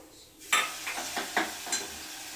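Garlic sauce hits hot oil with crackling cumin seeds and bursts into a loud sizzle, followed by a steady frying hiss and several rhythmic stirring strokes close by.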